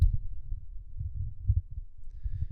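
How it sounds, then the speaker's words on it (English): Low rumbling thumps and bumps from a Sennheiser XS1 microphone being moved around in a hand, a steady irregular handling noise of close, muffled knocks with no voice. "Again, I'm holding it in my hand, moving it around. You get an idea of the handling noise"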